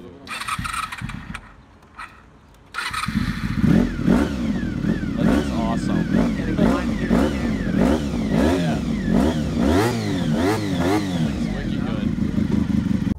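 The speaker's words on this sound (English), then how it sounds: "he even started up his VFR 400, gear-driven cams, 400cc V4," A Honda VFR 400 V4 motorcycle with gear-driven cams and a 400cc engine cranks over and catches, then revs repeatedly in loud, rising and falling bursts close by.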